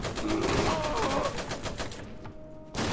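Sustained heavy gunfire in the video game Iron Harvest, a dense rattling burst of machine-gun fire filling the scene, briefly thinning before resuming, with no clear speech over it.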